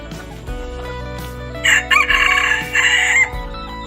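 Black hens calling loudly nearby, with a long, drawn-out crow rising over steady low clucking and farmyard rumble.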